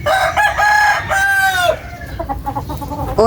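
Several rooster stags crowing loudly and close at a backyard farm after rain, long strained calls overlapping with clucking from other fowl, no talk.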